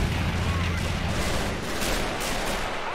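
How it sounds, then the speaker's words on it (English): An HE shell fired in the World War II strategy game Men of War: Assault Squad 2, set during a German convoy defense near Moscow in 1941, heard as a loud, continuous roar of battle noise with talk over it. "I believe that's the HE shell there."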